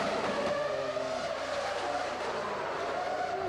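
Formula One race cars at Monaco in 1999, one sliding on dropped oil, give a steady high engine whine with a skidding edge, moderately loud and continuous throughout with no talk.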